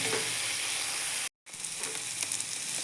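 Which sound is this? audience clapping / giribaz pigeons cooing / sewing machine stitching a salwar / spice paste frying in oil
spice paste frying in oil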